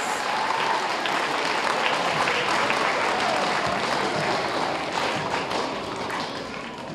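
Sustained applause from a school audience clapping for themselves, a dense close wash of claps that tapers slightly toward the end.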